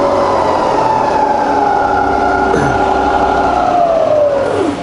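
The spindle of a fully rebuilt Bridgeport milling machine runs at high speed, giving a loud, close, smooth whine whose pitch holds steady and then winds down at the end.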